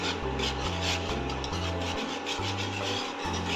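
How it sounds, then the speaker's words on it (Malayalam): Rhythmic scraping and rubbing of a spoon stirring thick coconut flower payasam with jaggery in a pot, fast repeated strokes close up with no talking. "നമ്മൾ സ്പീഡിൽ ഇങ്ങനെ ഇളക്കി കൊടുത്തുകൊണ്ടിരിക്കണം"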